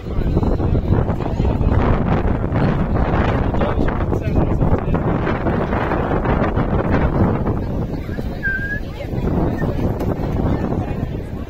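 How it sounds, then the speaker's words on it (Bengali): Light gusty wind blows across an outdoor spot during a school group trip, buffeting the microphone with a continuous low rumble that eases slightly toward the end. "হালকা দমকো হাওয়া"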